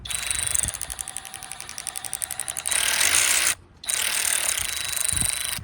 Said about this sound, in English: Do these ratchets always ratchet